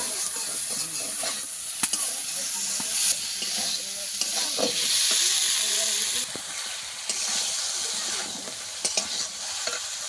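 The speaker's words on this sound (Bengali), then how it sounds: "একটু জল দিয়ে দেবো, দিয়ে ভালো করে মশলাটা কষিয়ে নেব" Spice masala sizzles and spits in a pan while being sautéed, with Bengali green chilli and a splash of water added, steady frying hiss with scraping stirs throughout, close and fairly loud, no talk.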